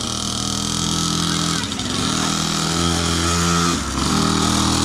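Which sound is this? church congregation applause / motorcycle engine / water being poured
motorcycle engine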